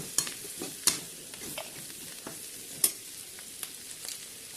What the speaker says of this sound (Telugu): బెండకాయ ముక్కలు వేసేస్తాం